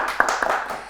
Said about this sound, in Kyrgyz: кол чабуулар ар бир командага